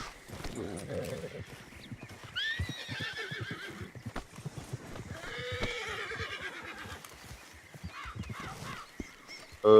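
A horse whinnies in the RedM (Red Dead) game, two rising neighs over clip-clopping hooves with crow-like caws and game ambience, while a player speaks faintly underneath.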